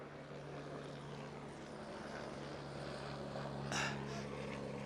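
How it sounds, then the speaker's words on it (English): A helicopter carrying VIPs lands near a cricket ground at Tigers Park in Dubai, its steady engine and rotor drone audible faintly in the background throughout. "Another chopper of VIPs just landed"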